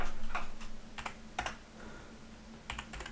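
Quiet typing on a computer keyboard while writing Lua code, scattered clusters of key clicks over a faint background hum, with no voices.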